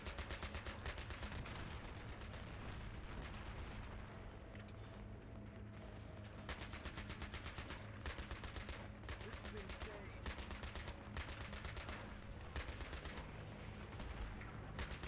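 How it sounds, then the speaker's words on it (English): Automatic gunfire in the Battlefield 3 campaign, fired through a wall in a combat zone: long rapid bursts of shots come and go over constant battlefield ambience, with a voice faintly under it. "See if we can shoot kind of through that wall real quick and maybe possibly hit somebody"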